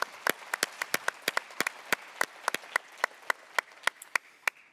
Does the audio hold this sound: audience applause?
yes